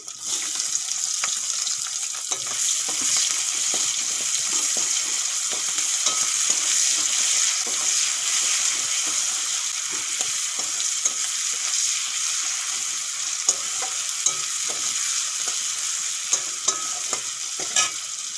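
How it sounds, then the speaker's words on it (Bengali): Chopped onion frying in fish oil for a Bengali-style dish: a loud, steady close-up sizzle with dense crackling and occasional stirring clicks, continuous throughout with no talking. "তেলগুলো একটুক্ষণ ভেজে নিয়েছি এখন দিয়ে দেবো একটা পেঁয়াজ কুচি"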